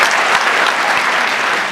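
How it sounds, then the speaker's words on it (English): A room full of people applauding, dense continuous clapping that stays loud and even throughout the short burst, heard close with no other sound standing out. "You guys give these people a big round of applause"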